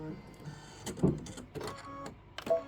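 A home embroidery machine stitches the eye, whisker and mouth details of a bunny on a bench pillow, giving short mechanical bursts and whirring runs that rise and fall at close range, with a voice murmuring beneath.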